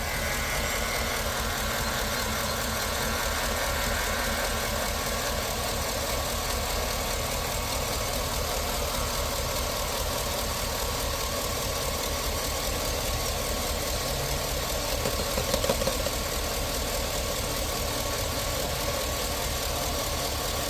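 A vehicle engine idles steadily at low volume, a constant even hum with a faint mechanical tick and no voices throughout.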